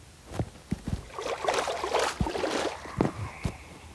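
Minecraft boat moving through water: soft splashing and rippling paddle-like swishes with several quick clicks, quiet and close, with no talking.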